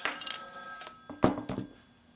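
An electronic telephone ringer trills in short repeated bursts, fairly close, in a workshop where an N scale curved model bridge is being scratch built; no talk over it.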